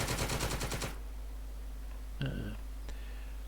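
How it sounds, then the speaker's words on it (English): Panzer IV machine gun in a war strategy game: a rapid burst of automatic fire for about a second, close and loud, then a lull with a few short clicks and tones. "So that triggered the Panzer IV to fire its machine gun."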